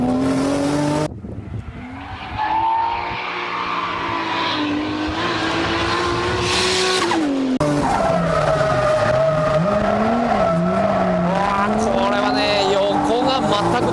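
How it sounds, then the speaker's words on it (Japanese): Car tires squealing and skidding through a drift on Korean-made tires during a tire test, the engine revving hard with long continuous screeching that shifts in pitch as the car slides. "先ほど行いましたドリフトタイヤテスト"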